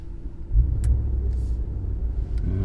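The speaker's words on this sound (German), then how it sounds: "Start mal das Auto." An Audi S8 engine starts and settles into a low, steady idle rumble that stays close and even, with no talking.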